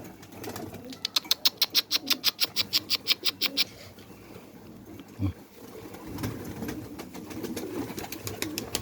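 Pigeons, including a Van arkatepe bird, call near their keeper with a rapid run of rhythmic, pulsing coos, then quieter rustling and shuffling close by while someone speaks softly.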